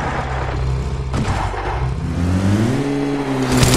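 A car engine in a mobile battle video game revs and accelerates, its pitch climbing steadily toward the end, loud and close with no talk over it.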